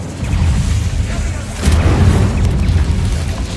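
Incendio fire spell cast in Hogwarts Legacy, heard as a dense, roaring rumble with a brighter whooshing burst partway through, loud and sustained over the game's background sound.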